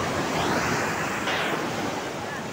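Surf rolls onto the small beach at Karang Haji near Sukabumi, a steady broadband wash of breaking waves mixed with wind buffeting the microphone, loud and continuous with no pause.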